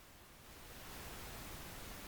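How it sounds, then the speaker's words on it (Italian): A steady pink noise test signal hisses evenly across the whole range, a dense broadband wash that holds constant and faintly swells, with no voices. "Un rumore rosa sappiamo che ha la stessa energia su qualsiasi frequenza"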